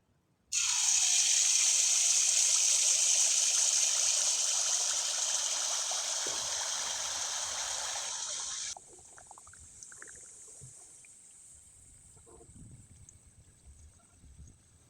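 Ripe palm poa pitha cakes fry in hot oil, a loud, steady sizzling hiss for about eight seconds that suddenly drops to a softer, lingering crackle with no one talking.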